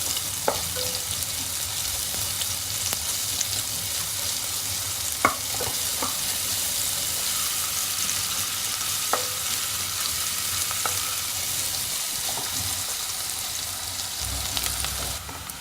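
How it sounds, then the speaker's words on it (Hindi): Onions sizzle and crackle steadily in hot oil for mutton liver masala, with occasional stirring clinks, a continuous close frying hiss and no talking. "प्याज को थोड़े से हल्की से फ्राई होने दीजिए।"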